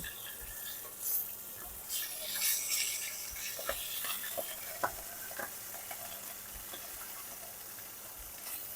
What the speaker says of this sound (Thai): ให้พุงมันโดนน้ำมันหน่อยนะ หนังของมันก็ใหญ่โต ให้พุงมันโดนน้ำมันนิดนึง